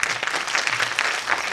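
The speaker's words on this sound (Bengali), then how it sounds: "ওর জন্য একটা বড় হাততালি দিন।" Audience applause at a music and dance festival stage performance, dense continuous clapping from a crowd, steady and fairly loud throughout with no voices over it.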